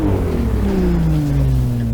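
A high-revving Ferrari 599 engine in the Assetto Corsa racing game drones steadily, its pitch sliding slowly downward, loud and close with no talk.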